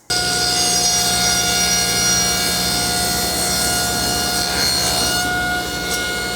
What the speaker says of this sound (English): And I'll be ready to make a cut.